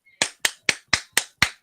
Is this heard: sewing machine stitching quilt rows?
no